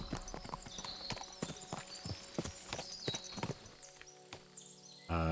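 Horse hooves clip-clop at a steady trot along a dirt road in medieval Bohemia, close and clear, with a whinny at the end and faint ambient background.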